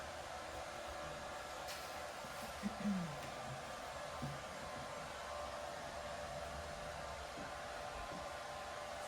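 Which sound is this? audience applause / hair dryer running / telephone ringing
hair dryer running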